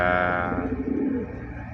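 Pigeons coo softly nearby, low throaty warbling calls rolling over a steady background hum.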